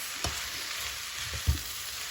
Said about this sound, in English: So I'll be stirring for about